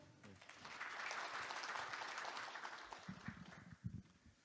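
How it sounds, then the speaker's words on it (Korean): Audience applause at a public-private R&D innovation forum welcoming a university professor to the stage, a steady broad wash of clapping that holds through the clip and thins toward the end. "박수로 맞아주십시오."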